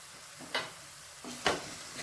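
Egg cracked into a masala mixture in a pan for a kids' lunch box, giving soft sizzling with a couple of brief louder spatters and stirring scrapes, close and fairly quiet, with no talking.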